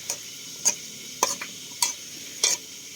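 A bitter gourd (ampalaya) salad is mixed in a bowl, producing five separate clinking, scraping stirs at regular intervals, close and moderately quiet, with no talk.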